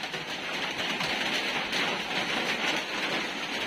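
Steady rain falls outdoors, a continuous close hiss of drops that holds at an even level with no voices over it.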